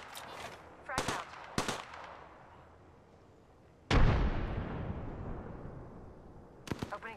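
Apex Legends combat sounds: a few sharp, moderate gunshots early, then a heavy grenade explosion with a long fading rumble, and a short cluster of shots at the end.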